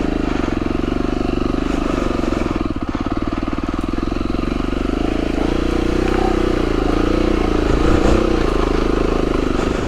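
An Aprilia Tuareg motorcycle on a slimy, muddy trail, its engine droning loud and steady close by with slight throttle changes and faint clatter, and no talking.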